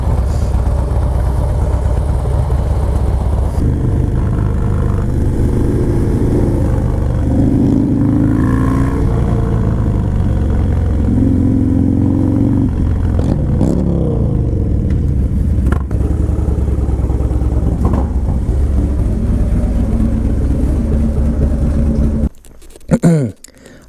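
A 2019 Harley-Davidson Road King Special with the 114 engine rumbles loud and close on a test ride, its deep V-twin throb swelling and easing through gear changes before cutting out sharply at the end, with some voices faintly under it.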